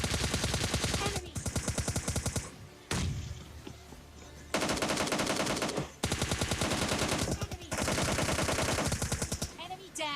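An M4 assault rifle in PUBG Mobile Lite fires long, loud, rapid bursts of automatic gunfire, broken by a few short pauses, with game sounds in between.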